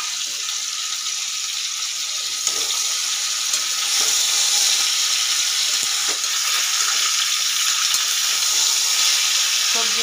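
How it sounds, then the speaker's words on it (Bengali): Chopped vegetables and vegetable stalks fry together in a kadai, giving a steady, loud hiss of sizzling oil that runs unbroken for about ten seconds, with occasional faint stirring. "সব একসাথে ভালো করে ভেজে নিতে হবে"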